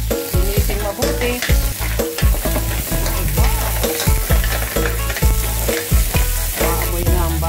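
Garlic and ginger sautéing in a pan for mussel soup, a loud steady sizzle throughout with rapid repeated scraping strokes of a spoon stirring, close up, no talking.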